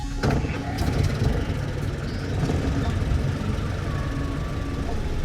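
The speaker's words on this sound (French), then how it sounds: "Les moteurs de l'ambulance grondent." A steady, low ambulance engine rumble idles continuously at moderate loudness, the motor running close by without pause.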